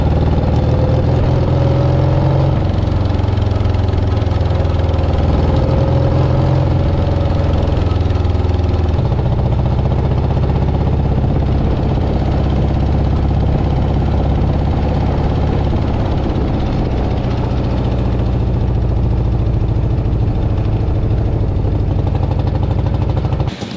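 A 1958 BMW R69 motorcycle engine runs continuously, a loud close rumbling throb that shifts slightly in pitch early on and then holds steady at a low chugging idle throughout.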